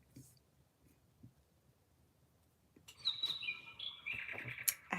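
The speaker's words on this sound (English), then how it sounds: "I hear you, bird." Bird chirping nearby, bright high tweets and trills rising after a quiet stretch and continuing in a busy run over soft indoor rustling.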